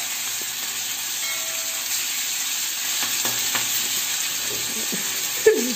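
Fish dropped into hot oil hisses into a loud, steady frying sizzle that holds for several seconds, with a brief sharper spatter near the end and no talking.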